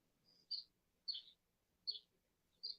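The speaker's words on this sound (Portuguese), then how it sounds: "E os passarinhos, eles começam a cantar, os passarinhos que vão se recolhendo" Small birds singing outside an open door at dusk, four short high chirping phrases spaced about every second, fairly faint against a quiet low background hum.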